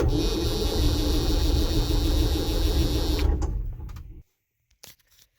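Engine of a John Deere 6620 sidehill combine being cranked over: a steady, loud mechanical churning runs for about four seconds, then cuts off abruptly, followed by near silence and a couple of faint clicks.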